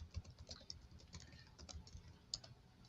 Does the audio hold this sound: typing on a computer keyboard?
yes